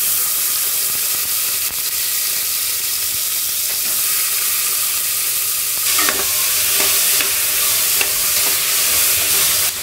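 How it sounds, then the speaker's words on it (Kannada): Legumes are stirred into onions frying in oil, a close, steady sizzle and hiss with clattering spoon strokes and a burst of louder crackle partway through, with no talking. "ಫ್ರೈ ಆಗಿದೆ ನೋಡಿ, ಇದಕ್ಕೆ ನಾನೀಗ ಕಾಳು ಸೇರಿಸ್ಕೊಳ್ತೀನಿ."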